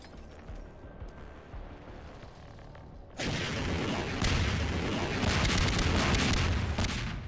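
Missiles are fired in the video game Swelter: after a quieter stretch, a sudden dense burst of explosive booms and rumbling fire takes over and stays loud to the end.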